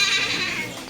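A short, fairly loud bleat from a goat or sheep at a pet sanctuary, a single wavering cry heard close by.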